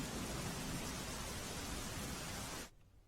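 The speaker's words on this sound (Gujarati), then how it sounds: "વડોદરામાં ધોધમાર વરસાદ પડ્યો છે।" Heavy rain pours down on the city of Vadodara as a dense, even hiss that continues steadily and then cuts off abruptly.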